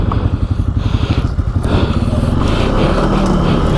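Can-Am Outlander ATV engine revving steadily up close as its wheels spin in two-wheel drive on a rough trail, a continuous loud motor drone with rhythmic pulsing.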